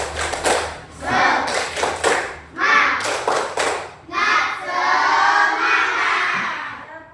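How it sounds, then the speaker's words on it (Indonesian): A classroom of children claps a rhythmic spirit clap in unison, sharp group claps in bursts with short pauses, ending in a sustained cheer or chant from the class. "Tepuk semangat."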